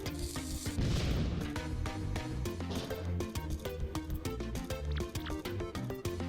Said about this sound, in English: Use Bobbery's explosions to blast cracks open, destroy walls, and activate switches.